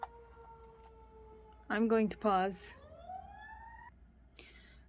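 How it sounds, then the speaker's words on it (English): Emergency vehicle sirens sound outside: steady tones, then a rising wail that is faint and distant, with a short burst of speech in between. "And of course there's sirens."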